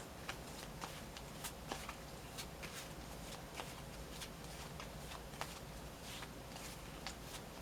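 Tarot cards being shuffled, a steady run of soft riffling with sharp flicks and snaps scattered throughout, close by over a low background hum.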